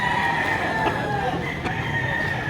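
A fighting cock crows at a rooster sale in Lipa, Batangas, its call rising over steady crowd chatter and other birds, with a second crow fainter and farther off.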